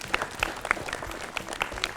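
A classroom group claps after a correct quiz answer, a short burst of scattered individual claps at moderate level, fairly close.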